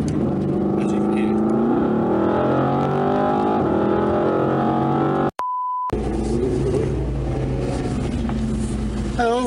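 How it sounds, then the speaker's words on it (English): An AMG GT R Pro sports car engine roars steadily, its pitch climbing and shifting as it revs, cut by a brief beep and a moment of near silence before the engine noise returns. "wanted to hear the engine as you went"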